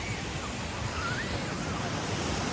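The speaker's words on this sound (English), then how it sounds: "I haven't shown you the ocean yet, so I guess it's that time" Steady, unbroken wash of ocean surf on a Hilton Head beach, a broad hiss that stays even and fairly loud throughout, with no distinct voices standing out.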